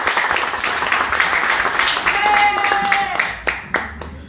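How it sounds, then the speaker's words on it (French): Applause from the audience at a political meeting announcing a municipal candidacy, a broad clapping wash with a voice and tonal sounds over it midway, then a few sharper isolated claps as it fades out. "On l'applaudit,"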